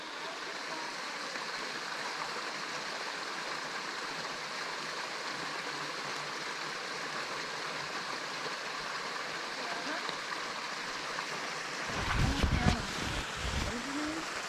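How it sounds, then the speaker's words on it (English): Small waterfall in a Costa Rica cloud forest, a steady broadband rush of falling water heard close, with a few handling bumps near the end. "Deb, there's a little waterfall down here."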